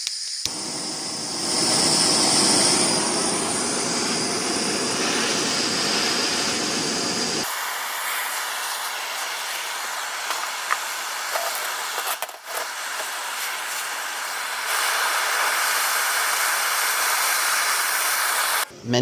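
A propane torch fed from a small tank roars steadily while preheating metal before welding with a 90 amp flux welder, a loud continuous hiss that shifts in tone partway through and carries on alone.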